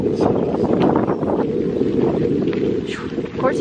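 Wind blowing outdoors at a trout pond, a constant heavy rumble buffeting the microphone throughout, with faint voices in the background.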